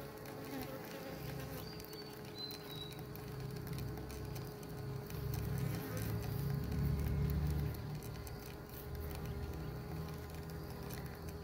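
Honey bees buzzing around a home hive kept to gather eucalyptus and acacia honey, a dense, steady drone of many insects close by with no talk.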